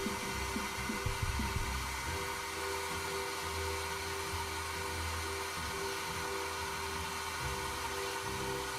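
A hair dryer blows steadily on a scale model to heat and dry enamel weathering over brown pigment, a constant close airy whir with a low hum running unbroken throughout.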